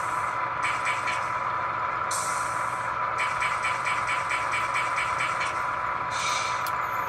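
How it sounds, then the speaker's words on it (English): Air compressor from a Scaletrains SD7 model locomotive sound decoder, with rapid rhythmic pumping pulses in bursts broken by short pauses, over a steady diesel idle rumble. "20 is the compressor."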